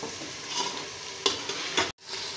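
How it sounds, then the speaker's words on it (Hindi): Masala fries for chicken chana, a close, steady sizzle broken by a few spoon scrapes and stirs before a brief cut, then the frying hiss resumes, with no voices. "2 से 3 मिनट इसको भून लेंगे अच्छी तरह।"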